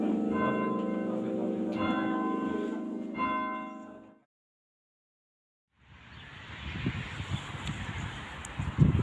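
Church bells in Cheltenham are rung in sequence by a team of ringers, sounding loud and resonant for about four seconds before stopping; after a short silence, wind and rustling noise take over.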